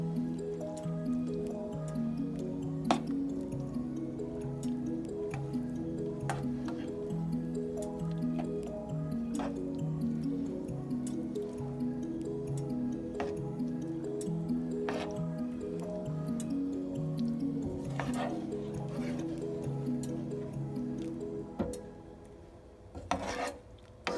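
Vaal Kadi being stirred in a pot with the gas switched off, a steady scraping and swishing of the spoon through the creamy mixture, close and continuous, with small ticking taps against the pot.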